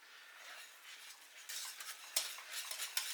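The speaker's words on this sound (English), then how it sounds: "So I'm going to start whisking it, and it's at this point that I add in a little bit of cream" A whisk clinking lightly against a pan as cream is stirred into a meaty onion gravy, a quiet, quick, irregular metallic ticking with soft swishes.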